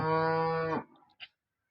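A single pregnant cow's moo, loud and close, lasting under a second, followed by a brief faint rustle and quiet.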